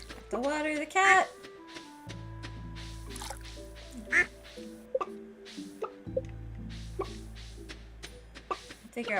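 A duck quacks in the farming video game Stardew Valley, short bright clucks and quacks scattered over a soft looping background tune, with watery plops and drips between them.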